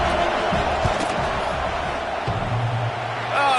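A dense stadium crowd roars during an overtime field goal attempt at a football game, a loud sustained wash of noise with thumps and scattered whoops throughout.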